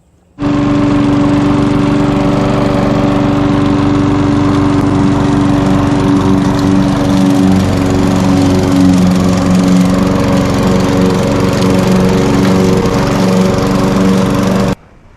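A Craftsman self-propelled lawn mower runs at full throttle on a wooded lot, a loud, close and steady engine drone with a buzzy tone that continues alone for about fourteen seconds before stopping abruptly.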